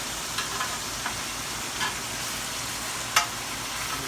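Ribeye steak frying in a hot pan, a steady sizzle with soft stirring and scraping and a sharp flip-like crackle near the end; close and fairly quiet, no talking.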